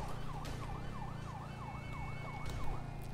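Wailing police siren from the video game GTA 5, a continuous looping yelp sweeping up and down steadily for the whole stretch, loud and close over a dense low engine and traffic rumble, with no talking.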